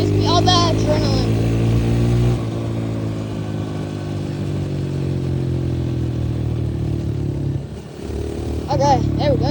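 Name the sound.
dirt bike engine while riding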